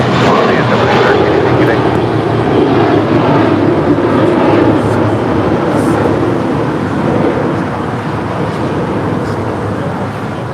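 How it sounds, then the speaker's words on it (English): A Qatar Airways Airbus A350-1000 jet arriving at LAX from Doha, a loud, broad engine roar that swells and slowly fades as it passes, with talking mixed in. "Qatar Airways Flight 739 coming in from Doha. It's an A350-1000."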